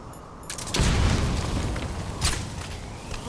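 A grenade blast in a video game boss fight: a loud, deep boom that swells and rumbles for a couple of seconds, with a second, smaller burst shortly after.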